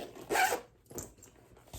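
The single zip on an Eco Susie bag is pulled in one quick rasping stroke, then followed by a few fainter zipper scrapes and handling rustles, close and clear with no talking.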